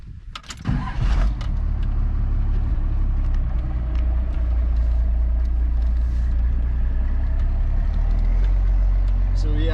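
First-generation Cummins diesel pickup, a two-wheel-drive truck, on a test drive after leveling work: a steady, loud low engine drone and road rumble throughout, with a brief clunk near the start and a faint voice under the noise.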